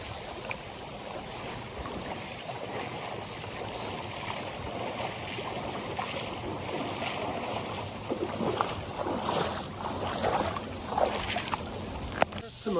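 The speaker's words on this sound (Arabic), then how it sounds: "عرفتي تسمع الصوت ديال الواد" Flowing river water beside a summer campsite in Korea, a steady broadband rush running through the whole stretch with people talking over it.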